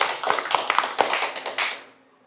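Several sharp hand claps, a handful of close, distinct smacks in an irregular quick run, fading into a short decaying tail with no talk over them.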